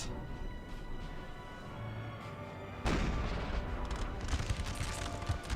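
Artillery barrage from the Napoleon Total War video game, a steady rumbling wash of distant cannon fire that jumps louder midway and keeps booming irregularly to the end.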